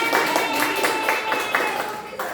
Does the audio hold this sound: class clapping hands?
yes